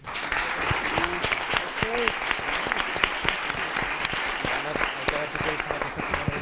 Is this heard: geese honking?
no